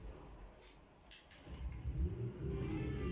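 A new vehicle's engine in Fortnite revs up after a couple of faint clicks, a rising mid-range rumble that grows louder and holds steady near the end.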